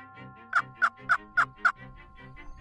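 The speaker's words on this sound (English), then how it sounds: "he was gobbling at everything we did" A wild turkey gobbles from a ridge during the spring hunting season, five loud, evenly spaced gobbles ringing out close by over a quiet outdoor background.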